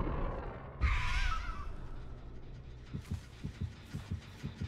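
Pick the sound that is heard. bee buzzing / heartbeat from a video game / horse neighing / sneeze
heartbeat from a video game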